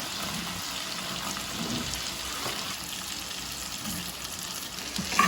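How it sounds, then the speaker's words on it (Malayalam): Vinegar mixture for bilimbi pickle bubbling in a pan as it comes to a boil, a steady close sizzling, seething hiss with a soft clink near the end, no voices. "വിനാഗിരി കൂടെ ചേർത്തിട്ട് ഇങ്ങനെ തിളച്ച് വരാൻ തുടങ്ങിയിട്ടുണ്ട്."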